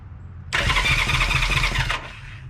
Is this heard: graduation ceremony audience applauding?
no